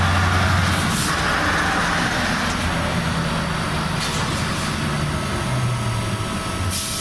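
A heavy truck rumbles past a Jaguar I-Pace sitting at a Fastned 350 kW fast-charging station, its low engine drone and broadband roar steady and fairly loud across the whole stretch, with a few brief hissing bursts.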